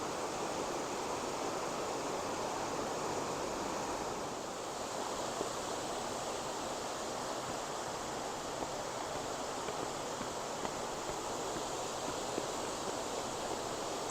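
Bridal Veil Falls in Oregon's Columbia River Gorge gives off a constant, even rush of falling water, a broad steady hiss with no breaks, heard from close by.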